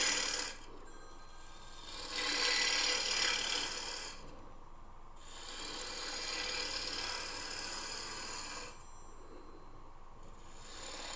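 Lathe tool taking a thin shear cut on turning wood, a soft abrasive rasping that rises in two longer passes and fades between them, fairly quiet with no talk.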